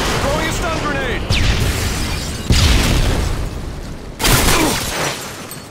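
A stun grenade goes off in a search-and-destroy round of an online shooter, with several loud booming bursts and crackling blasts layered over continuous game noise and background chatter.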